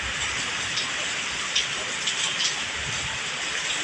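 Steady rainy-season rain in Thailand hisses down as a dense, even wash, with a few slightly louder drips and splashes close by and no voices.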